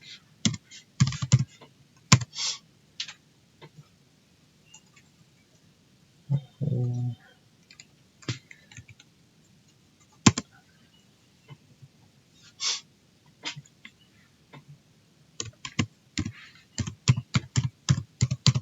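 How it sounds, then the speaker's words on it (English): A passphrase is typed on a computer keyboard in bursts of close, crisp keystrokes with pauses between them. A breath or snort is heard partway through, and no one speaks. "Okay, let's input a given passphrase."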